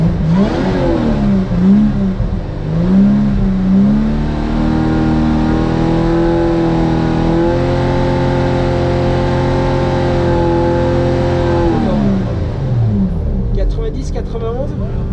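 A Lotus Exige V6 engine revs up from idle and is then held steadily at a high pitch for several seconds before dropping back, loud and close, with people talking over it.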